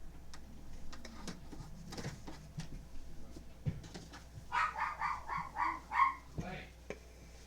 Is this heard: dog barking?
yes